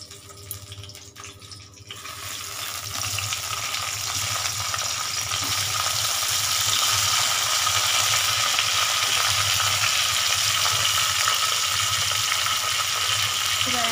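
Diced onions sizzle and fry in a pan for chicken curry, a steady loud hiss with faint stirring that swells after a quieter start and then holds continuously.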